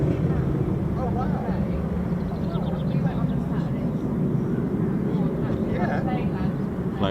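An F-15 fighter jet flies over RAF Lakenheath in Suffolk, a steady, broad jet roar that runs continuously beneath people talking nearby.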